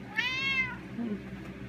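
A needy house cat meows nearby, one clear rising-and-falling meow followed by a softer short sound, with steady low background noise behind it.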